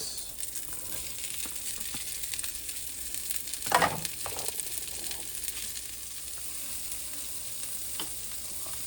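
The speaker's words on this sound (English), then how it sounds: "So let's start that thing up, increase the heat, get the onions in" Onions and shallots fry in a hot pan, giving a steady low sizzle throughout with a brief louder burst of stirring or scraping near the middle, heard close and without talk.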